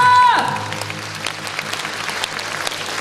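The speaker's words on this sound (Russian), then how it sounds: "И аплодисментами провожаем вас." An audience at a concert hall applauds, a dense burst of clapping that fades to a thinner, sustained patter after a brief musical tone at the start.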